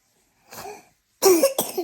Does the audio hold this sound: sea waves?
no